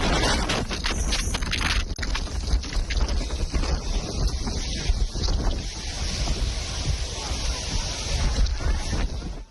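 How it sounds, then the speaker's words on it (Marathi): Stormy wind gusting through Bengi village in Ratnagiri, loud and continuous, roaring against the microphone with buffeting bursts across the whole stretch. "रत्नागिरीमध्ये बेनगी गावात वादळी वाऱ्याचं थैमान पाहायला मिळते"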